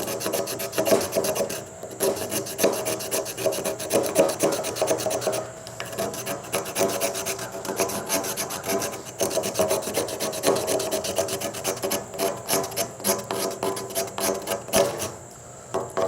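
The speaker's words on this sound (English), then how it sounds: "take the sharp edge of your knife and you're going to hold it perpendicular to the wood. You're just going to scrape off." A sharp knife edge held perpendicular scrapes along wood to raise fine fuzz for tinder, a close, dry rasping in repeated strokes that rise and fade with short pauses between them.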